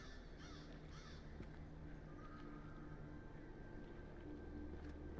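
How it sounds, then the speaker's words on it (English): Crows caw a few times near the start in the video game Saint Kotar, faint and distant over a quiet, steady outdoor ambience. "Damn crows!"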